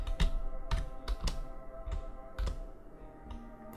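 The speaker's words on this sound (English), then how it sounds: "bashing his keyboard" A computer keyboard is hit hard during a Kerbal Space Program session, giving a handful of sharp, loud clacks in irregular bursts over a faint hum, with no voices.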